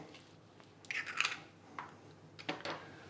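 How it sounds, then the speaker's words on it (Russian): An egg is cracked for salt-crusted sea bass in a kitchen. A few short, sharp crackling snaps and taps come close and fairly quiet, spaced over a few seconds, with no talking. "Разбиваю яйцо."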